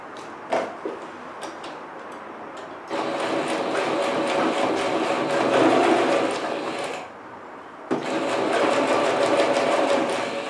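A sewing machine runs in two sustained bursts stitching a fabric cover for a cat's vaccination card, a steady close whirring chatter with brief handling clicks before and a short pause between runs.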